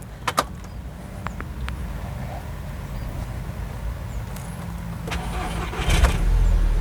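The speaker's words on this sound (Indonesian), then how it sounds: "Kita hidupin dulu ya teman-teman mobilnya." Volkswagen Golf GTI Mk6 starting up: a few sharp clicks and clunks, a quiet pause, then more clicks before the engine cranks and catches into a low idle near the end.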